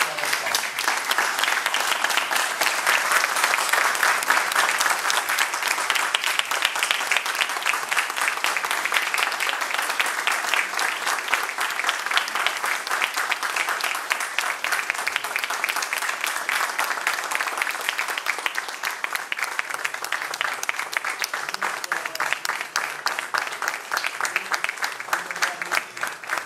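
An audience at a municipal award ceremony in São Roque gives sustained, loud applause, dense clapping that holds steady for nearly half a minute and thins slightly toward the end.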